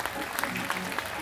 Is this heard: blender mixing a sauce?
no